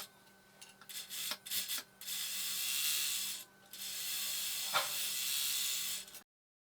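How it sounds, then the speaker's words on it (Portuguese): An overlock sewing machine cleans up the center-front of a cropped top's fabric, its motor running in stop-and-start bursts with a whirring, rasping stitch and a few mechanical clicks, close and alone before cutting off abruptly. "o que eu preciso fazer então é passar uma limpeza aqui, ó, no centro-frente, lá na máquina overlock"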